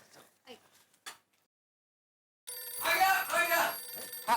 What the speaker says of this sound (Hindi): हाँ मैं अय्यर को एक बार फिर से फोन कर लेती हूँ